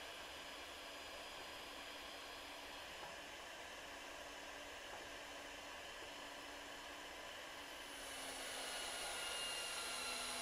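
A HYTORC Lithium II battery torque gun applying 2,000 foot-pounds, giving a steady, faint electric whine that holds even for seconds and then swells slightly louder toward the end, with no voices.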